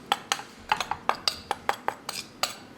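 A spoon taps against a bowl in quick regular clinks, about a dozen close, bright strikes, while dry ingredients for a protein yogurt bowl are mixed together, with no other sound around them.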